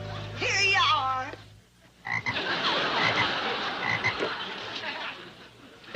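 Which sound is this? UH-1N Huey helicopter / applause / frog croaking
frog croaking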